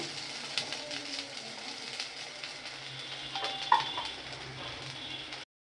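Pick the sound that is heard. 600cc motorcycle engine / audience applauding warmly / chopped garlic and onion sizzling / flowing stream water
chopped garlic and onion sizzling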